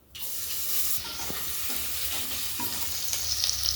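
Cumin and garlic dropped into hot oil in a pan, a sudden bright hiss that settles into a continuous close sizzle with faint stirring sounds, no speech.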